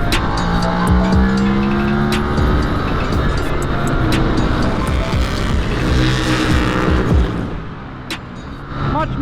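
A 2024 KTM RC8c race motorcycle lapping Portimao circuit, its engine droning loud and close throughout with shifting revs and gear changes, easing off near the end.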